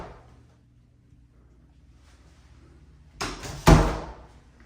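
The door of a linen closet in a bedroom of a Florida model home opens after a quiet pause, with two close, sharp knocks of wood and latch near the end.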